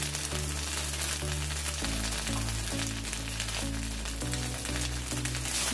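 Curry leaves frying in oil with small roasted idli in a pan, giving a steady crackling sizzle that sits under prominent background music throughout.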